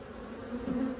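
Honey bees buzzing inside a hive around a queen cage during an early-season split, a close, steady droning hum that swells slightly toward the end.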